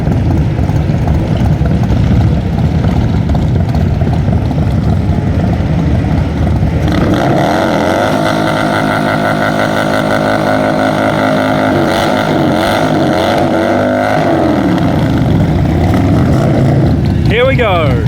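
An FXDR motorcycle launching at a Perth Motorplex drag race, its engine a loud, steady roar that rises in pitch through the run amid the noise of the strip.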